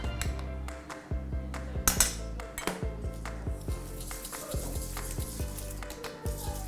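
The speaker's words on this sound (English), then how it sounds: "I'm just going to pop that in my sugar and give it a little whisk." Cornflour is whisked into sugar in a bowl for pavlova meringue, a quick run of close, rhythmic clinking and scraping strokes with no talking.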